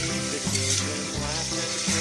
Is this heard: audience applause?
no